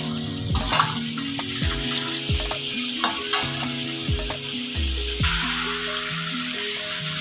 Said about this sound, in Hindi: चिकन को हमें ब्राउन करना है